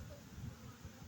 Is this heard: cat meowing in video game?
no